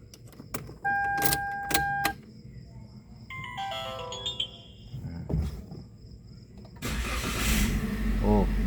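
A 2017 Toyota Avanza G engine cranks and catches after a series of electronic beeps and chimes, its rough running noise rising loudly and continuing to the end.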